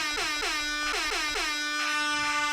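An air horn sample fired from a Serato DJ Pro sampler blares in rapid repeated blasts, about six loud stuttering hits in a row.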